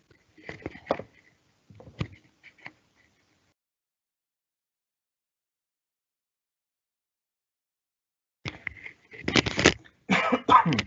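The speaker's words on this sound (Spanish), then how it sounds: "Van a disculparme que estoy con un poco de tos hoy" Several dry coughs from a man with a mild spring cough, a short burst at the start, then a long silence before a louder cluster of close coughs near the end.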